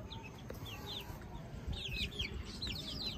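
Hens and chicks clucking and chirping softly in the distance, with several small calls scattered over a low outdoor background hum.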